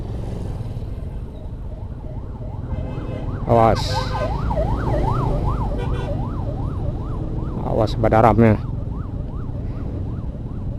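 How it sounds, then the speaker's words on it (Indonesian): An ambulance siren rises and falls repeatedly over road traffic rumble on the Bukittinggi–Padang Panjang route, loud and fairly close, with a couple of short horn blasts and brief talk between. "Ambulan."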